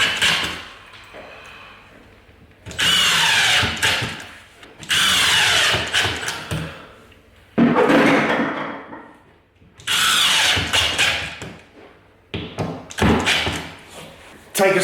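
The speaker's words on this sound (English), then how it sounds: "put in a couple more screws to secure our new piece in, back in line with our pieces of timber" A power drill drives screws into a patched wall and its timber backing: four loud, close bursts of whirring lasting about two seconds each, separated by quiet pauses with faint thumps.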